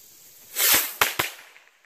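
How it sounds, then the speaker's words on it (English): A bottle rocket firework launches from a fire pit with a loud whooshing hiss, then two sharp cracks in quick succession, close by and outdoors. "we're about to shoot them off and see what they do. Here we go, first rocket."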